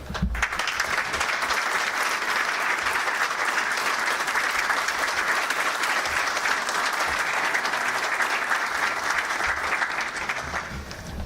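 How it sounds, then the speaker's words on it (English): Sustained applause from a large audience, dense, even clapping for about ten seconds before tapering slightly at the end. "we just give them a big round of applause"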